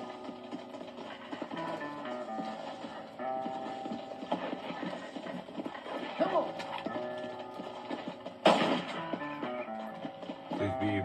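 Horse hooves clip-clopping in the Western video game Red Dead Redemption, a steady trotting rhythm under a music score and game sounds, with one sharper burst near the end.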